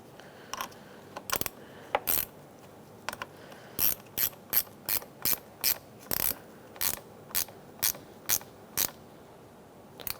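A ratchet loosens the battery terminal nut on a 2002–2006 Toyota Camry, giving a long series of short, sharp clicking bursts in an irregular rhythm, close and clear with no talking.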